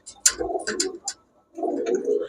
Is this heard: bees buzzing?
no